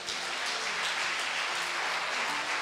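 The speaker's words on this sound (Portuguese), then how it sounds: "Aplauda o Senhor." A church congregation applauds during a sermon, producing a steady, dense wash of clapping that holds at an even level throughout, with no voices audible.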